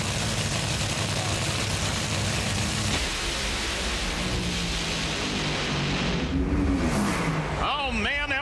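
Tony Schumacher's Top Fuel dragster makes a 316 mph pass in round-two eliminations at the Summit Southern Nationals in Atlanta: a loud, continuous broadband roar, with a commentator talking over it.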